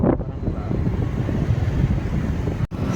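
Strong wind buffeting the microphone during a night drive on a road, a continuous loud roar with a brief dropout near the end.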